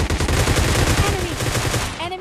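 Rapid Groza automatic rifle fire in the mobile game PUBG Mobile Lite, a loud, dense burst of shots in quick succession that tapers off near the end.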